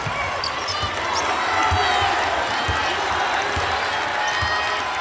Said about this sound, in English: Crowd urging on the Hawkeyes at home.